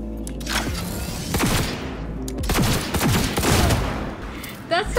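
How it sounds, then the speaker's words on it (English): Rapid bursts from a sci-fi gun in Cyberpunk 2077 rattle out loud and close in several volleys, with crackling, buzzing energy discharges and voices mixed in underneath. "That sounds like a space like gun."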